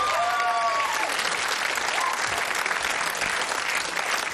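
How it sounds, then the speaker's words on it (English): A studio audience on the ITV game show Blockbusters applauds steadily, a full, even roar of clapping that holds through the moment, with a brief faint tone near the start. "Give her a round of applause"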